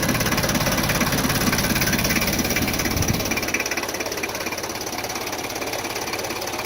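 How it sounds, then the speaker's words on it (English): Forklift engine turning over and running, a loud close rumbling idle with knocking pulses that eases slightly and settles into a steady drone. "Turn the key to the right. Vehicle starts."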